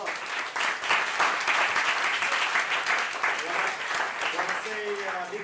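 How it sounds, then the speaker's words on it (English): A meetup audience at a React developers' gathering in New York applauds the speakers, thick continuous clapping from a crowd nearby, holding steady and loud, with a voice briefly audible under it near the end. "please round of applause."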